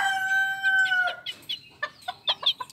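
A Japanese bantam rooster crows once, near and fairly loud with a drawn-out final note, followed by a scatter of short clucks and chirps from other birds.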